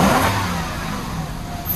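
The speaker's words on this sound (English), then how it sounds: "Yeah, I know y'all hear that induction noise." A Lexus LS400 engine revs with a strong induction roar, a steady, loud mid-range drone that holds high before easing slightly, close to the car with no talking.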